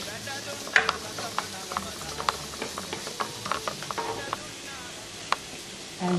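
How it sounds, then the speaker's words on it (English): Onion fries in oil in a preheated heavy-based Bessemer pan, a close crackling sizzle with sharp pops and scraping stirs, while voices talk quietly in the background. "preheated the bessemer pan with oil and just frying the onion"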